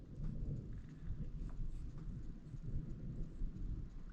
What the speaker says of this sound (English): Ah, it's thundering outside.